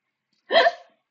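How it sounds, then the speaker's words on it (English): A single sharp hiccup, close and fairly loud, lasting well under half a second against an otherwise silent background. "Hiccups!"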